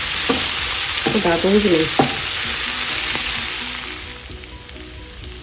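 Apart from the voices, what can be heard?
goat stomach and liver frying in a pan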